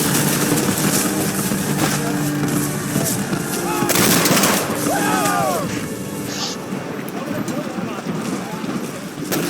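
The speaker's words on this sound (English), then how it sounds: "Their intense fire thickens the air with whizzing metal." Battle-of-Shiloh-style gunfire around the Hornet's Nest crackles in dense, continuous musket volleys with heavier booms mixed in, a busy roar of combat layered with a narrator's voice.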